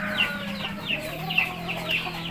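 Several chickens cluck in a steady, overlapping chatter, with sharper calls popping out about every half second, fairly close and without any talking.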